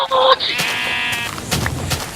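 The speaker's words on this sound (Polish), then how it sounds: "Owce." A Minecraft sheep gives a clear, wavering bleat after a short bright tone, followed by softer game noises; no speech.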